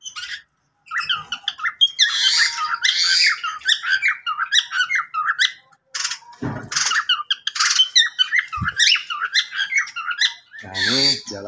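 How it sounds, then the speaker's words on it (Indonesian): Budgerigars, or Australian parakeets, chatter nonstop in an aviary in front of a shophouse, with dense squeaky warbles and chirps close to the microphone and a few sharp squawks. "Dan ini burung parakeet Australia."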